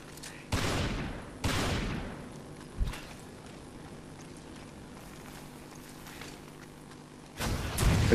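Gunshots fired at spilled gasoline in Resident Evil 5: a few sharp, loud in-game shots spaced irregularly, with quieter thuds and ambience between them and no talk.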